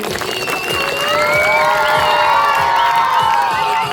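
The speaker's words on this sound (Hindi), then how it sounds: "जोरदार तालियां हो जाए प्रोग्राम के लिए।" Loud clapping mixed with children's high cheering and whoops from a school crowd at an Independence Day celebration program, rising and staying steady and close throughout.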